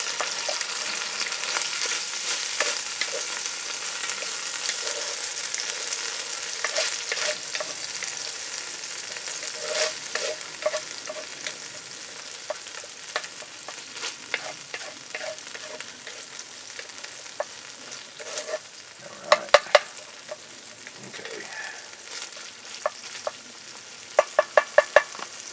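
Chicken and macaroni fry together in a Dutch oven with a steady, close hiss, dotted with scattered crackles and a few sharper clinks near the end; no voices.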